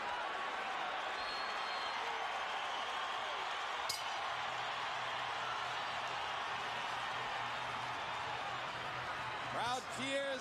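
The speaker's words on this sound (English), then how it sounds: "Crowd cheers as we get past the midpoint of the fight." Boxing crowd at the Oscar De La Hoya versus Ike Quartey fight roars in a steady, dense wash of cheering throughout, with a brief clink and a few whistles near the end.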